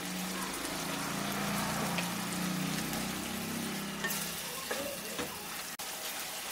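Spice masala sizzling and frying steadily in a pan for a prawn curry with yogurt, a continuous close crackle with a few stirring scrapes and clicks toward the end.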